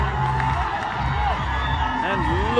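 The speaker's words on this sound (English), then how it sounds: "And look at them cheering." A crowd cheers and whoops at a police team's finish line in a timed competition, a dense roar of voices carrying beneath an announcer's ongoing commentary throughout.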